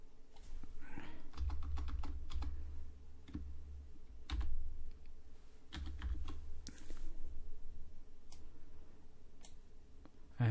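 Keys clatter on a computer keyboard in irregular bursts of quick, close clicks separated by short pauses, with no talking.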